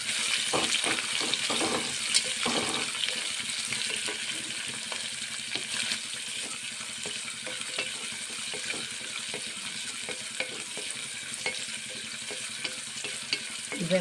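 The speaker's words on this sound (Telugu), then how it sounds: "ఉల్లిపాయ ముక్కల్ని ఇలాగా కొంచెం సేపు వేయించుకుందామండి." Thinly sliced onions and curry leaves fry in a pan where cashews were already roasting, giving a soft continuous sizzle broken by scraping stirs and clinks near the start, fairly quiet and without voices.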